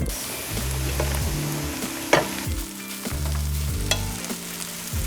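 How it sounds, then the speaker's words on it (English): Basmati rice being stirred through sweated onion, garlic and chili in a pan for salmon kedgeree, a soft sizzle broken by repeated scraping strokes and one sharp clink, close up. "I've just added the basmati rice, and I'm mixing it through the sweated onion and garlic and chili"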